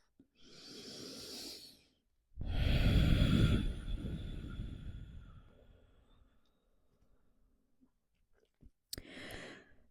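Slow, deep breaths taken by a person resting in child's pose, each inhale and long exhale heard up close with quiet pauses between them and one last short breath at the end.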